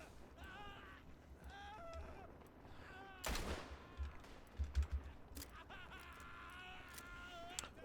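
Bolt-action rifle fire in the Tannenberg video game sounds as a single sharp crack midway, followed by scattered distant battlefield shots, under faint game noise and chatter.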